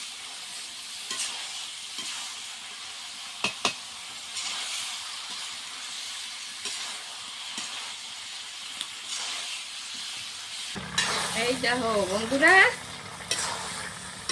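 Chicken with bamboo shoots frying in a pan makes a low steady sizzle with faint scraping and clinks of stirring, turning louder and hissier near the end. A voice speaks briefly.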